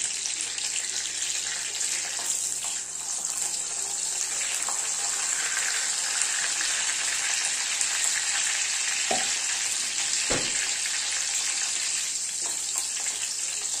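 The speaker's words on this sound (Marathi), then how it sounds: "तर आता इथे तेल तापल्यानंतर मी त्यामध्ये घातलेला आहे लसूण आणि कढीपत्ता." Garlic and curry leaves sizzle steadily in hot oil for a Kolhapuri egg curry, a dense, continuous frying hiss close to the pan with a couple of brief stirring clinks and no talk.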